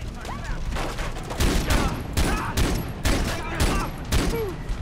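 AK47 gunfire in the video game Far Cry 3 rings out in several bursts of rapid shots, punchy and fairly close, with quiet gaps between the volleys.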